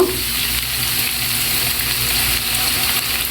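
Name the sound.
onion frying in oil, onion paste added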